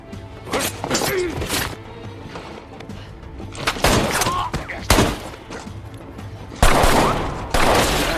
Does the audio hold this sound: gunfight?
yes